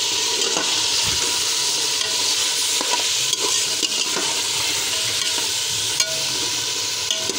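Ginger garlic paste fries and sizzles steadily in a pan, with a spatula scraping and stirring through it in irregular strokes, close and continuous, with no voices.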